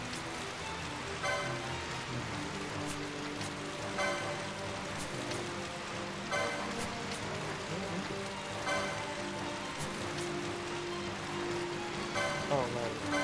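Steady rain falls in Final Fantasy XII The Zodiac Age, a continuous soft patter with game music and a voice talking over it.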